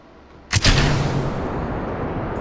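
Rocket liftoff in Kerbal Space Program: a sudden sharp bang at ignition followed by a sustained loud roaring rumble of engines that continues steadily.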